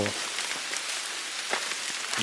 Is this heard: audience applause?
no